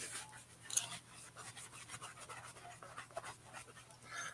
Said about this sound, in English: That puppy sure is trying hard to lick it.